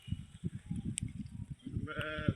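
Goats and their kids struggling in hot weather: a faint, quavering bleat rises near the end over a low background of soft rhythmic thumps and shuffling.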